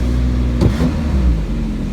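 An engine is kicked down from higher speed to idle while refrigerant gauges are read on a flammable-refrigerant system. A loud, steady motor hum briefly surges and then settles back to an even idle.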